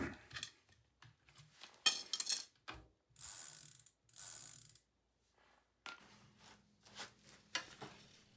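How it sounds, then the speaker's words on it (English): Soft, intermittent ratcheting clicks and brief metallic bursts as a bicycle cassette lock ring is screwed on and snugged down on a Trek 2.3, quiet and close with short pauses between turns. "Lastly, I'll screw on the lock ring and snug it down nice and tight."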